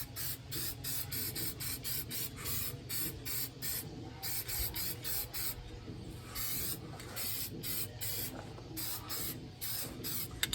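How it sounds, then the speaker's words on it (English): Spray paint hissing onto an engine part for a weathered look, in a rapid series of short, close bursts with a continuous low mechanical hum beneath. "Never mind the overspray, you want that."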